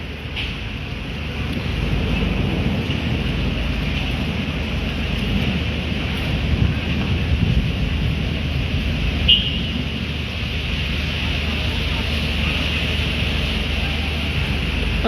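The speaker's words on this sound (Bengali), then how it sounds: "দমকা বাতাস এবং ঝড়ো হাওয়ার সঙ্গে আসলে মুসলধারে বৃষ্টি এবং বজ্রপাত কিন্তু শুরু হয়েছিল" A midnight thunderstorm lashes the capital with gusty wind and heavy rain, a continuous roaring rush of wind buffeting close by, steady and loud for the whole span.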